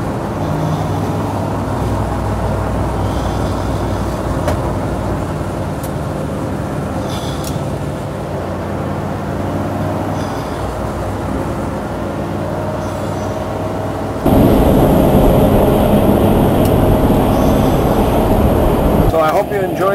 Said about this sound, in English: So I hope you enjoyed this short test drive down the freeway.